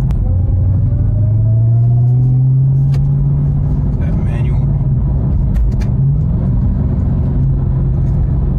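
Inside a Dodge Charger Hellcat Redeye built from a V6 rental car, the supercharger whine climbs in pitch over a deep engine rumble while the car pulls in sport mode, with people talking over it.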